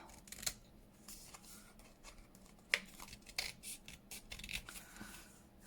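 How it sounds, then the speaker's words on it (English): Scissors snipping paper in a series of quick, crisp cuts with light rustling between them, close and fairly quiet. "I'm going to straighten this up with my scissors"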